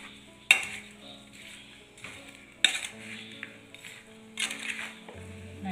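Avakka achar made from sour native mango, mixed with plenty of oil in a vessel: a spoon scrapes and sloshes through the thick pickle, with sharp metallic clinks against the pot every couple of seconds.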